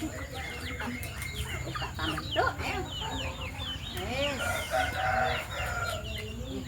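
Chickens cluck and a rooster crows at a home kitchen, with repeated bird calls through the clip and a louder burst of crowing near the middle, mixed with a hum and brief background talk.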